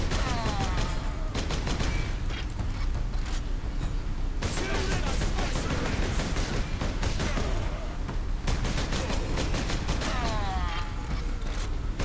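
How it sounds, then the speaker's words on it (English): Dense gunfire from Warhammer 40,000: Space Marine rattles in loud, continuous bursts of rapid shots, with sharper cracks and heavier booms layered through the barrage. "Oh wow, that's a lot of fire actually."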